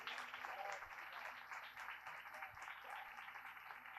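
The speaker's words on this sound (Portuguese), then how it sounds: "Nós acolhemos o Padre Maurício com uma salva de palmas" Audience applause at a religious forum in a church hall, welcoming a priest, fairly faint and steady throughout the four seconds with no speech over it.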